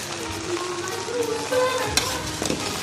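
Chinese rice being stirred and mixed in a pan, giving a continuous soft sizzle with scraping and shuffling strokes and a sharper clack near the middle, close up with no talking.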